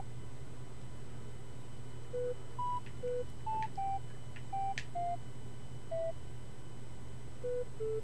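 Animal Crossing town tune notes beep one at a time as a melody is pieced together in the game's composer, short electronic tones at varying pitches spaced irregularly over a low steady hum.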